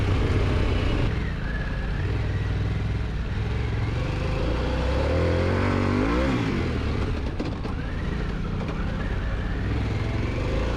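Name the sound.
motorcycle engine revving hard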